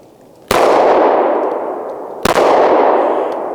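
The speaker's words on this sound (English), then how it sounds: "I'm gonna shoot the tape first, and then I'll shoot a twig off" Two sharp shots from an M&P Shield 9mm pistol fired outdoors at a twig at 7 yards, each loud crack followed by a long ringing decay, spaced nearly two seconds apart.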